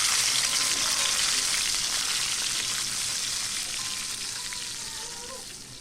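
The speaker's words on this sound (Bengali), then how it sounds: "মাছটা একটু কড়া করে ভেজে নেব।" Rohu fish fries crisp in a pan with a dense, steady hiss and spattering crackle that fades slowly over the few seconds, without any voices.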